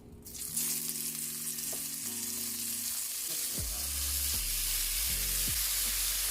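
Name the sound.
shrimp frying in a pan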